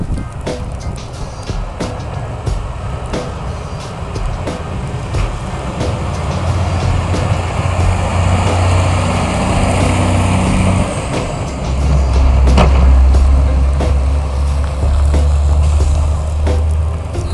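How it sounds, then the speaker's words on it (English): A snowplow rumbles past on a snowy street during a 1 a.m. snowstorm in Nova Scotia, its engine swelling into a loud, close roar with a steady scraping hiss and a low drone, then continuing heavy and near. "we have another snowplow coming"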